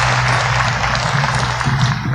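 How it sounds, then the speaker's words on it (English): At a Veterans Day program, an audience gives a round of applause for a guest, producing a dense, steady wash of clapping that holds at an even level from start to end. "Big round of applause for Mr."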